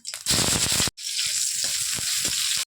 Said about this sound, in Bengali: তেলটা গরম হয়ে গেছে, এবার দিয়ে দেবো শুকনো লঙ্কা, অল্প পেঁয়াজ কুচি।